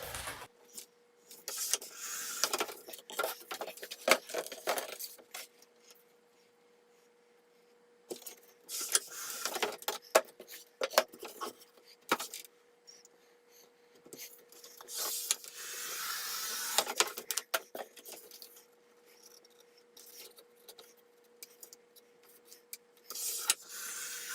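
Foam board being cut for a vinyl sign, with short bursts of close scraping and slicing strokes separated by quiet gaps and a faint steady hum underneath.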